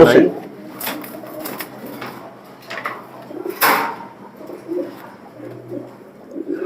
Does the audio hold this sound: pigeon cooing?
yes